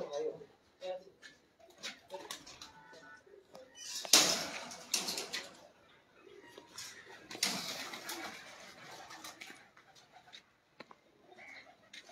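Pigeons coo softly at a pigeon seller's place, with low intermittent calls and a few louder knocks while people talk over much of it.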